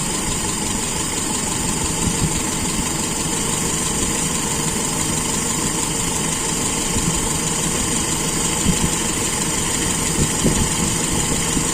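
A carburetted engine idles steadily while its carburetor air screw is adjusted, a loud, even, close drone with faint knocking pulses and no clear change in speed.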